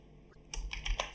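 Typing on a computer keyboard, a quick burst of several crisp close key clicks in an uneven rhythm, alone and fairly quiet.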